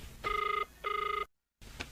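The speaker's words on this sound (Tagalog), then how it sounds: "Barang no agring ti cellphone na." A cellphone rings with two bursts of electronic ringing tone, each lasting about half a second, followed by a brief silence and a faint trailing click, all with no talking.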